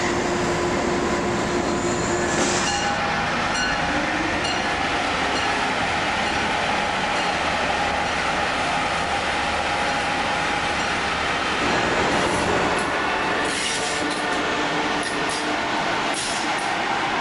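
An Acela Express train in a train simulator game rolls along with a steady loud rumble and hum, then a series of rhythmic clacks as its wheels cross a rail junction.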